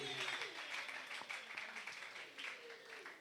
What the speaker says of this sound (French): Est-ce qu'on peut acclamer très très fort pour la gloire de Dieu?